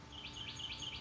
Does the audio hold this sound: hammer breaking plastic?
no